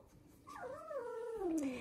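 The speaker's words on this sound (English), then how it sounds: "these puppies are just real smart and real sweet" A poodle puppy lets out a single drawn-out whine that slides downward in pitch, close by against a quiet room background.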